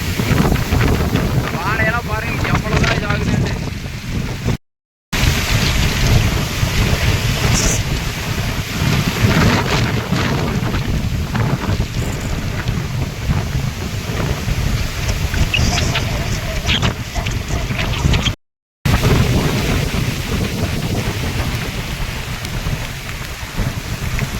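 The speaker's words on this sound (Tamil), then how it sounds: "அந்த அளவுக்கு மழை பெய்யுது" Heavy rain and strong gusting wind lash the Bhavani Sagar Dam area in Erode, Sathyamangalam, a loud continuous roar with buffeting wind noise on the microphone and two brief dropouts.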